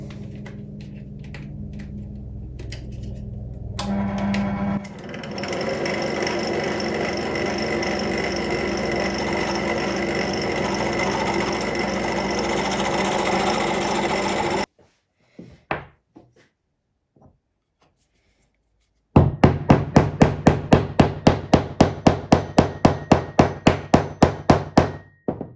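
Skew chisel worked on wood in a workshop, a continuous scraping and rasping stretch followed after a short pause by a fast run of sharp, evenly spaced taps, close and fairly loud, with no talking.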